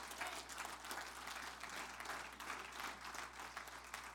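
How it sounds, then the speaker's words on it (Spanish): Church congregation applauding during a Spanish-language sermon, a steady wash of many hands clapping at a distance, faint beneath a low electrical hum, with no voices. "Dele ese aplauso al Rey."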